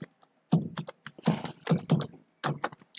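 Keystrokes on a computer keyboard, a run of close, distinct taps in uneven bursts with brief pauses, alone with no talk.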